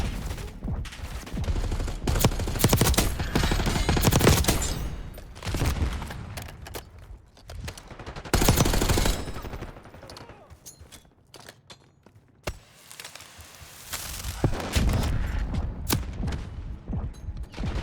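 Heavy gunfire in Call of Duty: Black Ops 6 during a shootout in a video store: sustained automatic bursts and loud, close cracks that ebb and surge, with brief lulls between the volleys.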